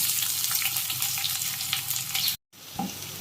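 Chopped onion frying in a pan for drumstick-leaf dal, a loud continuous sizzle with stirring that cuts off abruptly to brief silence, then resumes more quietly.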